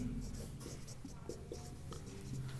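Pen scratching on paper while a maths solution is written out, short strokes in quick irregular bursts, close and fairly quiet, with faint room background.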